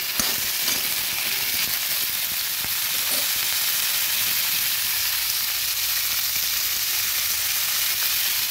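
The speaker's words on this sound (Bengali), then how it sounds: "দিয়ে ভেজে নিচ্ছি।" Ingredients frying in a pan for a vegetarian Bengali koyash dish: a loud, steady sizzle and hiss of hot oil fills the whole stretch, close up and unbroken, with no voices.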